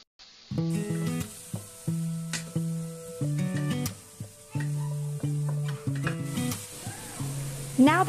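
Tomatoes added to caramelized onion in a pan for chicken caldereta hiss and sizzle loudly at close range, broken by repeated utensil scrapes and stirring knocks, with no speech.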